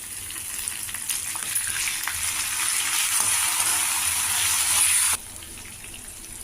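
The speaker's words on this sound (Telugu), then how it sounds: "పోపు వేగింది ఇందులో కొద్దిగా కరివేపాకు బాగా క్లీన్ చేసింది" Curry leaves and a tempering of spices fry steadily in hot oil, a dense bright sizzle that holds near and loud for about five seconds before dropping away abruptly.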